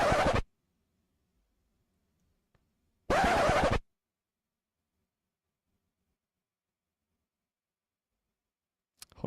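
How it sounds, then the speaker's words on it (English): Two short, harsh scratch bursts from a faulty sound deck, each about half a second, separated by silence, with a third brief scratch clipped right at the end. "you guys might have heard the scratch 3 times"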